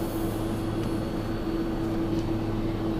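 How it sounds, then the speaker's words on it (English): Steady, loud engine roar from Air Force One, the presidential jet, on the ground during a presidential visit to Selma, with a constant low hum and a droning tone running unbroken throughout. "Air Force One is a special vehicle, 3 stories high."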